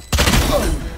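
A shock dart from Valorant strikes with a sudden electric burst and crackling, fizzing discharge that rings out briefly, loud and close.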